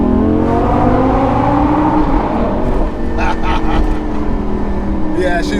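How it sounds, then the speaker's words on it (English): A V10 engine in a bright orange 2000s performance car revs hard in second gear, giving a loud, close, sustained harmonic roar that stays strong throughout. "Just to cement this V10 noise."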